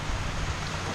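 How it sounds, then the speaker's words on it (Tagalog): Rain falls as a dense, steady hiss of noise throughout the single second, with no distinct drops or voices standing out. "Ayun naman ulan."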